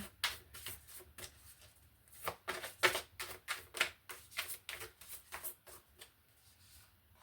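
Tarot cards being shuffled by hand, a quick run of crisp, papery riffles and taps, close and fairly quiet, with no talking.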